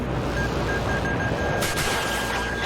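Rapid cannon fire from an F-18 fighter jet in the Battlefield 3 video game, a dense continuous burst of gunfire with a sharper crackling surge near the end, loud and steady throughout.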